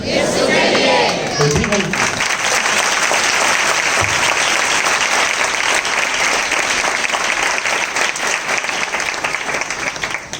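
A church congregation applauds in a sustained, loud burst of many clapping hands, with some voices mixed in at the start before the clapping carries on alone.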